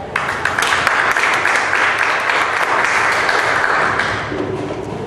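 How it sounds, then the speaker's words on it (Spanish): A seated audience at a university tax-law event gives a strong round of applause to welcome a speaker, sustained clapping from many people that fades slightly near the end. "a quien recibimos con un fuerte aplauso"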